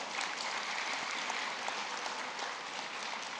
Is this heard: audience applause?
yes